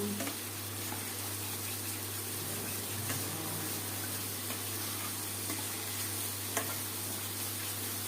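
Bhindi masala being stirred as it fries in oil in a pan, dhaba style: a continuous, even sizzle with soft scraping strokes underneath, close and steady throughout, with no voices.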